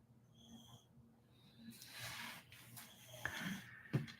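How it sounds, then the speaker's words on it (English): Faint, slow snoring breaths with a few soft snorts come from a dog resting nearby in a quiet room. "This damn dog is so loud when she snores, it's unbelievable."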